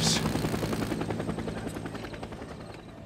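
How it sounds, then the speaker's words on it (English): A helicopter flies overhead in the zombie survival game Days Gone, its steady rotor thump loud and continuous at night, with no voices. "Time to follow the chopper."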